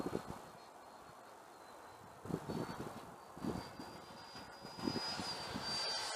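A Freewing F-22 90 mm RC electric ducted-fan jet flies overhead on a windy day, a faint whooshing roar that rises and falls in pulses as it passes, with a thin high whine and wind in the background.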